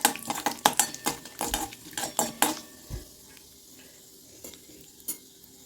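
Fennel seeds and urad dal sizzle in hot oil in a kadai while a spoon scrapes and clinks against the pan in a quick burst of strokes, then the sizzling quietens with only an occasional knock.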